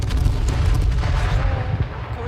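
Rapid gunfire in the H1Z1 battle royale video game, a dense run of booming shots that holds steady and loud throughout.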